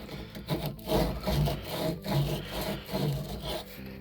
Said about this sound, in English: get rid of all the burrs here. Use a little bit of sandpaper